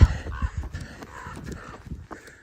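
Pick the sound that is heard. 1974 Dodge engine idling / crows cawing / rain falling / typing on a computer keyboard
crows cawing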